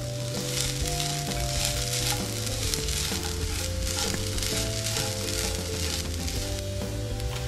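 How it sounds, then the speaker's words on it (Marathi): Grated fresh coconut sautéed in a pan for modak filling makes a loud, even frying sizzle with soft stirring rustles, unbroken from start to end and free of speech. "ओलं नारळ खिसून घेतलेला आहे, आता आपण याला व्यवस्थित परतवून घेऊयात"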